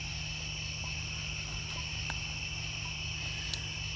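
Insects call outdoors at night: katydids and cicadas make a steady, high, continuous buzzing drone with a faint constant low hum beneath and one brief click near the end.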